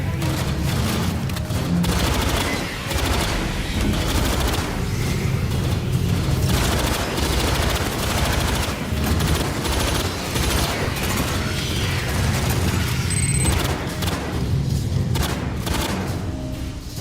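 Dense gunfire crackles through a Warhammer 40k video game battle, with rapid bursts of automatic fire and heavy thumping booms layered into a loud, nearly continuous barrage.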